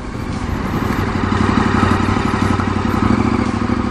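A KTM 1290 Super Adventure R motorcycle rides along with a steady, close engine drone and rhythmic mechanical pulsing, loud and continuous with no talking.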